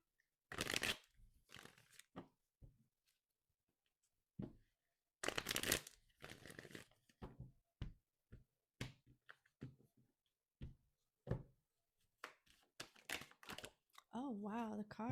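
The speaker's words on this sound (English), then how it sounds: "the cards are just flying out" Tarot cards being shuffled by hand, with crisp riffling and flicking bursts scattered through a quiet stretch, close and fairly faint, some soft handling noises in between.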